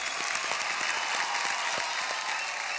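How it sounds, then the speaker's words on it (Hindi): Loud, steady applause from a television studio audience at a children's singing competition, dense and continuous throughout with no gaps. "एक बार जोरदार ताली।"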